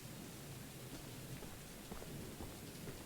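Steady rain falls in Choo Choo Charles, a faint, even hiss of drops that holds at a constant level throughout with no other sounds.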